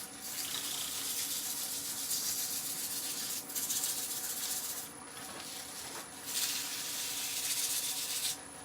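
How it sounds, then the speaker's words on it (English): Burnishing the outside of a turned wooden bowl, likely a mortar, spinning on a lathe: a steady, continuous rubbing hiss with brief lulls, close and fairly quiet. "we're going to burnish the outside of the bowl as well"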